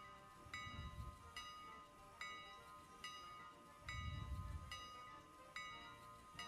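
Train rolling along in the railway game Railroader, with a steady low rumble that swells twice, over a continuous tonal hum and repeated bright metallic clanks and rings.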